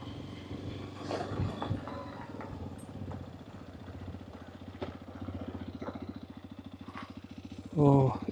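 Several motorcycles idle close by at Kudremukh, a steady low engine rumble with clattering ticks running through the whole stretch, faint voices underneath and a brief louder burst near the end.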